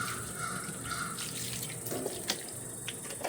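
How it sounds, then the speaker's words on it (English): Water splashes steadily onto a moldy Blackstone griddle being cleaned, a continuous close running pour with no talk. "I'm just going to put some water on here for now."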